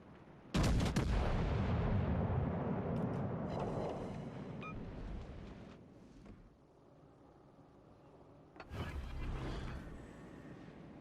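Heavy warship guns fire in a naval video game: one loud booming salvo rolls out over several seconds, followed by a second blast near the end.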